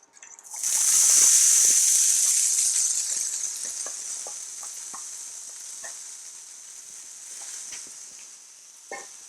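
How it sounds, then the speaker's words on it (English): Loud, steady sizzling from vegetables being sautéed in a hot pan, bursting up at first then settling into a continuous crackling hiss with occasional clinks. "And the sizzling sound is exactly what you want to hear."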